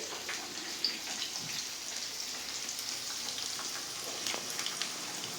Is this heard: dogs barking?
no